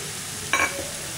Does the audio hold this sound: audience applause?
no